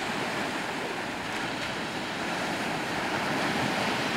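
Ocean waves surging onto a beach where people wade in the surf, a constant hissing roar of breaking water that swells slightly louder toward the end, with wind buffeting the microphone.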